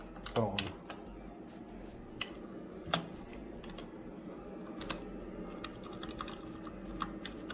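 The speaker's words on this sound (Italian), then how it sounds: "Per la tastiera ho usato una tastiera PS2 della IBM" Keys clack steadily on an IBM PS/2 keyboard attached to a retro Windows 98 SE PC, an uneven run of light taps with a few sharper strikes over a low background hum.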